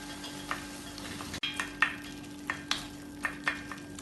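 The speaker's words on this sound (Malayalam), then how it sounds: "ഇതിനി ഒരു തവി കൊണ്ട് ഇളക്കി ചെറുതായി ഒന്ന് കുത്തി ഉടച്ചു കൊടുക്കാം" A ladle stirs and mashes cooked jackfruit and mango in a pot, giving soft, scattered scrapes and taps over a quiet background hum. The sound is close but faint.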